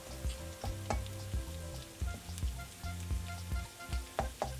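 Garlic and aromatics fry for a soy garlic enoki mushroom dish, sizzling steadily in the pan under continuous stirring, with frequent close scrapes and taps of the utensil against the pan and no talk.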